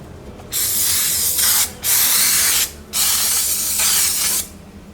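Top & Top release spray hissing onto a cake pan in three long bursts with short pauses between, close and loud.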